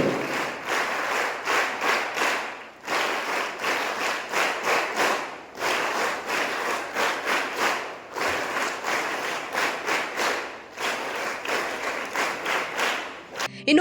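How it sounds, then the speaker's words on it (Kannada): An audience claps at an inauguration ceremony marking a Birsa Munda birth anniversary event; dense, fairly close applause comes in repeated bursts with brief dips, moderately loud throughout. "ತಾವೆಲ್ಲರೂ ಜೋರಾದ ಚಪ್ಪಾಳೆ ತಟ್ಟುವುದರ ಮುಖೇನ ಈ ಒಂದು ಉದ್ಘಾಟನೆಯಲ್ಲಿ ಪಾಲ್ಗೊಳ್ಳಬೇಕಾಗಿ"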